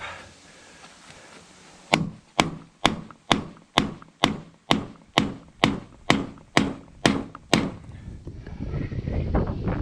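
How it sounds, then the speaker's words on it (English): Sharp metallic strikes in a steady run of about thirteen evenly spaced hammer blows on a nail set, close and loud, then a rising rustle of handling afterward. "And then I'm just using my nail set because it works."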